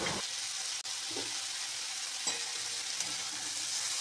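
Chopped onion and diced potato fry in oil in a pan, a continuous close sizzle broken by a few soft scrapes as the pieces are stirred.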